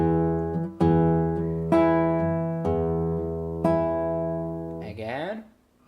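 Fingerstyle acoustic guitar arrangement, with plucked bass notes and paired treble strings in an even, ringing pattern, close and clear, ending with a short bit of talk.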